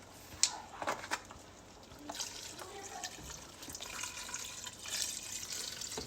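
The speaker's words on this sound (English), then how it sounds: "But I'm gonna go ahead and put in the chicken broth." Chicken broth poured from a carton into a pot of homemade chicken curry, a soft, steady liquid trickle with small splashes and drips, faint and close in a home kitchen.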